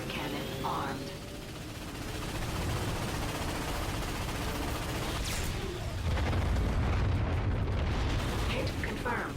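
In the Ratchet and Clank video game, the Star Watch ion cannon fires and explosions rumble in heavy booming bursts, loud and continuous, with game voices talking over the blasts.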